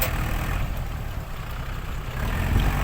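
A steady, loud tractor engine rumble drones throughout, heavy and low, running close by.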